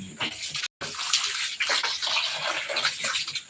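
Water pours steadily into a basin or tub, a broad continuous gush with one brief break, close and loud, with no talking over it.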